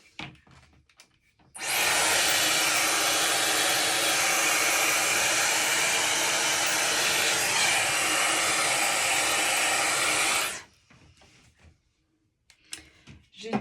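A Dyson hair dryer blows in a steady, loud, close whoosh for about nine seconds while styling the back of the hair with a brush, then cuts off abruptly into quiet.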